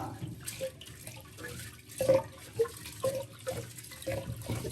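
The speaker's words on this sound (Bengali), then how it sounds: "তাহলে আমি চালটা ধুয়ে নিই।" Rice being washed in water, soft irregular swishing and sloshing with small splashes at close range, fairly quiet.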